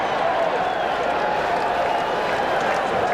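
Steady roar of a Fenway Park crowd during Game 3 of the 1986 World Series between the Mets and Red Sox, a dense continuous wash of cheering and applause at constant loudness.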